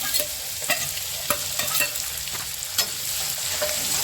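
Finely chopped onions frying and being stirred in a pan while cooking chole, a steady close sizzle broken by repeated scraping strokes of the spoon, with no talking.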